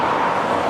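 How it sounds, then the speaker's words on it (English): Steady road traffic roars past on the busy A470 through Wales, a loud continuous wash of car and vehicle noise close by with no break. "there's a lot of traffic coming back and forth"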